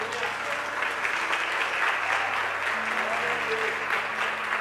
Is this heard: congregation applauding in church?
yes